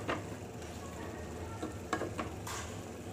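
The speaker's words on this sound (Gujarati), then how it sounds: "વચ્ચે એક વખત હલાવીશું અને ફરીથી આને આપણે ચડવા દઈશું." Ridge gourd (turiya) curry is stirred in a pot, a soft steady sizzle and simmer broken by a few brief spoon scrapes and knocks, close and low in level, with no talking.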